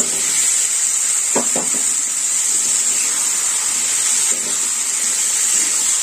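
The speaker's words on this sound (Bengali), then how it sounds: "কচু আলু দিয়ে এবার আমি ভালো করে কষে নেব।" Fried taro and potato being stir-fried in fish curry masala in a pan, a loud continuous sizzling hiss with a couple of brief stirring scrapes, no voices.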